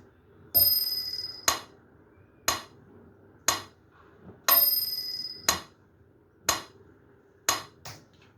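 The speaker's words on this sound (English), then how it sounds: "I'm gonna play out the metronome beat for you once" Metronome beat playing eight counts, a bright bell-like accented click on the first beat followed by lower clicks, repeating twice at a steady tempo of about one per second, heard alone with no talk.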